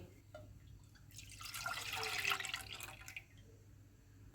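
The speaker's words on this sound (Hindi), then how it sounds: "पैन में दूध डालेंगे" Milk poured into a pan for bread pudding, a soft close liquid splash and trickle building for about two seconds and then tapering off, quiet overall.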